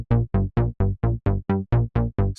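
Synth bass step sequence from Rob Papen's SubBoomBass-2 plugin, about eleven punchy, evenly spaced eighth-note plucks with bright attacks and quick decays, played alone.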